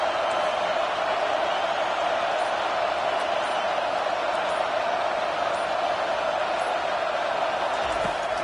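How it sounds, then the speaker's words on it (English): Stadium crowd roar in the NCAA 25 college football video game during a late fourth-down play, a dense, steady, loud wash of voices holding at one level throughout. "Waning moments, huge fourth down, and this crowd is rising to the occasion."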